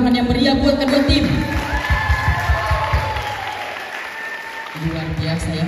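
Audience applause after a school Indonesian-language debate at a madrasah language festival: dense, steady clapping from a hall crowd, loud at first and easing midway, with a voice talking over it in the opening second and again near the end.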